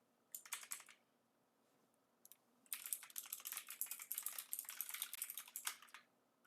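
Someone types on a computer keyboard, first a short burst of rapid clicks, then after a pause a longer dense run of fast, close keystrokes, with no talking.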